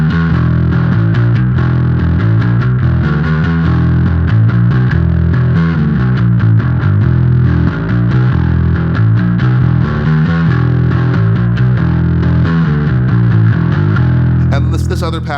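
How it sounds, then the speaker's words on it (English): A bass guitar played through a big fuzz drive patch on a small pedalboard gives a thick, heavily distorted tone, loud and continuous, with busy rhythmic notes throughout and no talking. "I have my drive patch, which is basically just a big fuzz."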